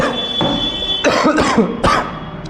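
A person coughs three times, in sharp harsh bursts close by, over a steady low room hum.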